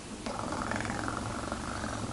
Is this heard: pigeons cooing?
no